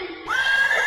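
A horse gives a single loud, close neigh that rises sharply and holds a bright, strained whinny for nearly a second, with no talk over it.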